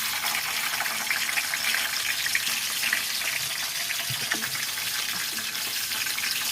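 Onions frying in a pan for an Odia-style chicken curry, giving a steady, close hiss and crackle of sizzling oil that runs unbroken throughout with no talk.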